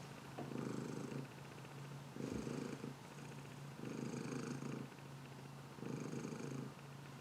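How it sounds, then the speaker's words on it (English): A pet cat purrs up close in steady, rhythmic bursts, each breath cycle rising and falling softly, with no talking. "By the way, here's my cat."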